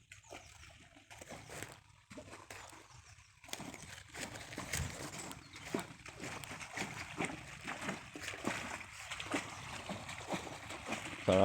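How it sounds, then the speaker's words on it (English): Water trickling and splashing as it slides down inside a derelict railway station, a steady dribbling wash with intermittent splashes, fairly close, with brief speech over it. "How that water fucking slides down."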